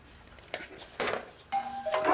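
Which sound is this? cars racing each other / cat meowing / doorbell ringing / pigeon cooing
doorbell ringing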